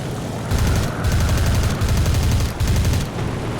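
Aircraft guns fire in War Thunder arcade air combat with a Hurricane Mk IIB, rapid continuous bursts in several long volleys broken by short pauses, loud and dense over a steady engine drone.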